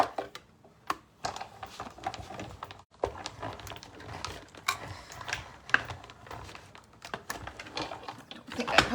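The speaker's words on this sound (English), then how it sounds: "let's get our die cutting machine out, and we'll give this a quick cut" A die cutting machine cranks a card through, producing close, irregular mechanical clicks and ticks with short gaps, fairly quiet and with no voice over it.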